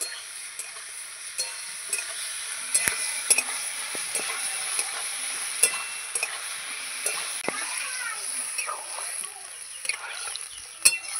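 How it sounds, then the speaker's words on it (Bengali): Spices for a shing fish curry stirred and frying in a pan, a steady high sizzle broken by sharp scraping clicks of the spatula at irregular intervals, close and moderately loud with no voice. "দিয়ে ভালো করে এটাকে নাড়াচাড়া করব। আমি মশলাটা দিয়ে ভালো করে কষিয়ে নেব।"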